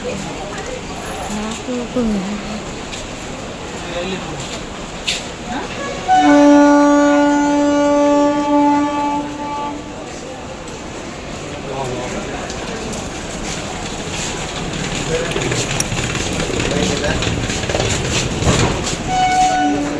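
A train rolls past with a rumbling clatter and sounds a long, loud horn blast partway through, while people talk nearby.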